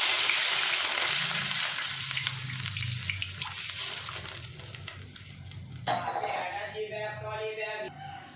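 Water poured into a wok holding a little hot oil hisses and sizzles loudly, fading to a softer bubbling simmer with a few clinks, while a voice talks quietly at times.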